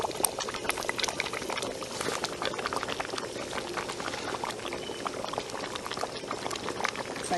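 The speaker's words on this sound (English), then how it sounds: "Now it's time to add the vegetable." Spinach going into a pot of boiling egusi melon soup, heard as continuous close bubbling and wet liquid churning at moderate volume with no pauses.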